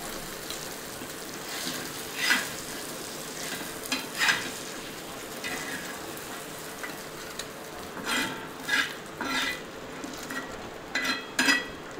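Mackerel (bangda) fish frying in a pan on low heat, a soft, continuous sizzle with a few louder crackling bursts at intervals.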